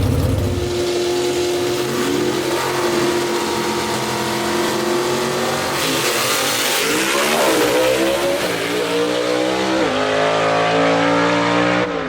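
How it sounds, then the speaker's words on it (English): Two 1955 gasser drag cars, a Chevy and a Ford, launch and race at a dragstrip, engines loud and continuous with rising, shifting revs and tire squeal, no talk. "So Leslie Horn, the number 1 qualifier in that 1955 Chevy, the Chick Magnet, going to be taking on the number 14 qualifier in a 55 Ford, Ray Ballou in the Bad Alibi"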